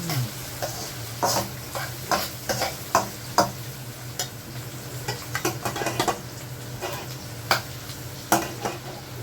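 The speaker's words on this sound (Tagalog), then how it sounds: "Antayin ko muna maluto ang onion." Onions cooking in a pan for Ilocano pinakbet, a steady low sizzle with repeated scrapes and clinks of a utensil stirring against the pan, close by with no voices.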